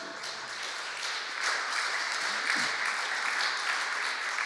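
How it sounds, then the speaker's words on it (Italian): A warm round of applause from a seated audience welcomes the guest journalists at an Italian panel on migrant news, continuous clapping that swells slightly louder midway and stays full to the end. "invitando con un caloroso applauso"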